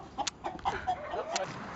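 A rooster crowing and clucking close by in a short, uneven burst of calls, with no talk over it.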